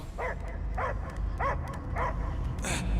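A dog barks repeatedly in the video game Guardians of the Galaxy, about five evenly spaced, fairly close barks over a steady low background rumble, ending with a brief high-pitched sound.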